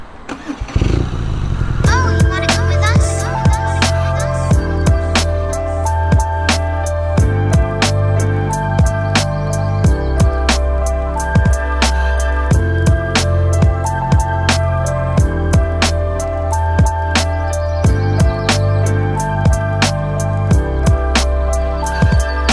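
A BMW R nineT's air-cooled boxer motorcycle engine cranks and catches, then settles into a loud, close, steady idle with a regular, lumpy pulse that continues alone.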